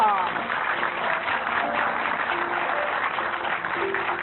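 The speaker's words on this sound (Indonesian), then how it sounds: "tepuk tangan yang luar biasa untuk pasangan Bapak Louis Tendian dan Ibu Ferawati Hartono" Sustained applause from a seated audience at an event, greeting a couple as they are introduced; steady dense clapping fills the whole stretch with faint voices underneath.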